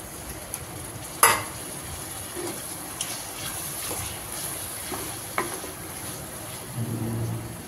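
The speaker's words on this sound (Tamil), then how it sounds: "இப்போ வந்து எறாவை சேர்த்து நல்லா வதக்கிக்கலாம்" Prawns sauté in oil with a soft, low sizzle, broken by occasional clinks and scrapes as they are stirred, including one sharp knock near the start.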